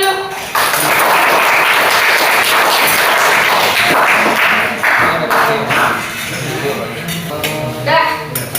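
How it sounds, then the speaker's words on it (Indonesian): A classroom of students claps in a loud burst that thins out into scattered individual claps toward the end, heard up close with some voices mixed in. "Oke, tepuk tangan dulu."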